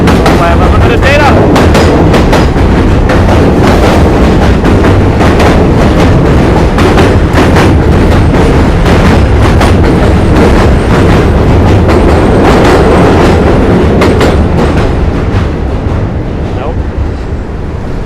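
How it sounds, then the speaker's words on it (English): A New York subway train clatters over rail gaps, very loud and close, with rapid clickety-clack beats and a roaring rumble running continuously. "The rail gaps make the noise."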